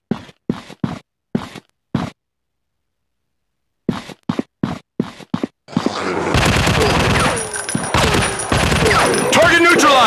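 In the zombie shooting video game Industrial War, short spoken phrases with pauses come first, then a sustained, loud barrage of overlapping gunshots takes over for the last four seconds.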